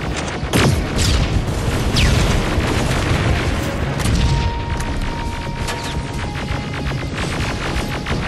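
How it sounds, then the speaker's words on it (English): Rocket explosions in the video game Terminator: Resistance, loud booming blasts with a heavy rumbling wash and crackling debris, followed by a lingering hum. "Rockets! They're heading this way!"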